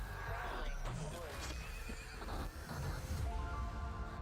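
A horse whinnies and neighs in an indie horse video game about a cult, with hoof clip-clops and game sounds behind, heard faintly under a voice talking over it.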